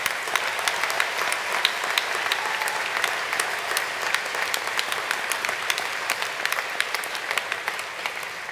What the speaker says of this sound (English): Let's hear it for the mature graduates